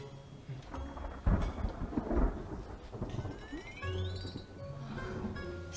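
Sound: thunder before rain

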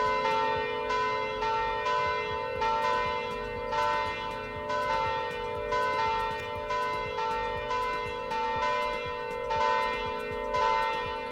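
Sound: church bells ringing in Roblox game Polish Car Driving

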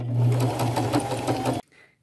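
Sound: sewing machine stitching cargo jeans pocket flaps

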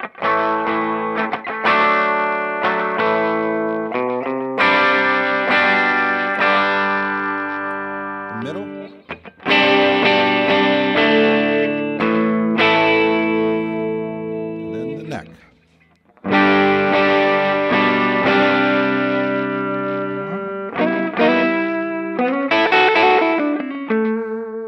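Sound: 1994 PRS McCarty electric guitar, clean sound

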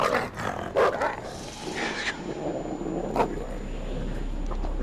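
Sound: dog barking in the video game Until Dawn

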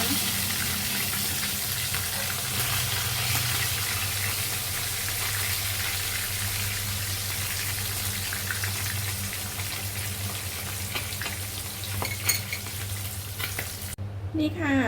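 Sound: frying mackerel in a pan

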